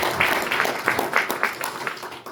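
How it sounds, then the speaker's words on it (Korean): A seated audience at a maritime union policy forum gives a short round of applause, steady scattered clapping filling the room for a couple of seconds before fading. "박수 한번 부탁드리겠습니다"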